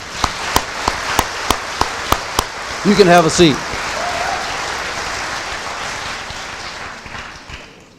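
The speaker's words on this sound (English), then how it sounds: "How about a round of applause for those guys?" At an eighth-grade graduation ceremony, a few evenly spaced single claps are followed by a short spoken line, then a sustained, steady wave of audience applause fills the hall.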